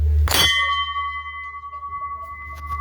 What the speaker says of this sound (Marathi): हे बघा ही मोठीवाली घंटी